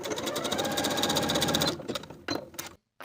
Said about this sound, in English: Sew the short edge with a 3/8 inch seam allowance.